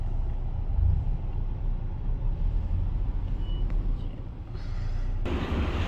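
Cars pull out of a parking spot in Jeddah with a low idling engine rumble, close by and steady, followed by a brief hiss near the end.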